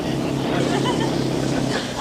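A PT boat, the 116, motors along with a steady low engine drone under people talking nearby, with water noise around it.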